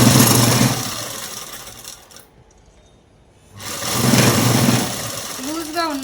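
A sewing machine stitches folded fabric for a boat-neck long frock, a steady, close mechanical whir that drops away briefly in the middle before running again at full speed.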